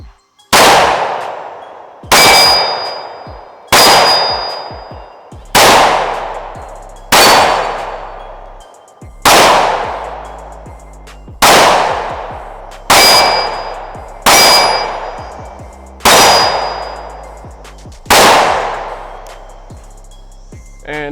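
A 10mm handgun fires about a dozen shots in a steady cadence roughly two seconds apart, each a loud, sharp report with a bright ringing clang that decays before the next, and no talking.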